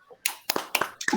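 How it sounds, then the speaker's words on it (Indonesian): About five loud, close hand claps from a workshop audience land at uneven intervals, each a sharp slap, with quiet gaps and a faint voice before them. "Tepuk tangan dulu Bapak Ibu."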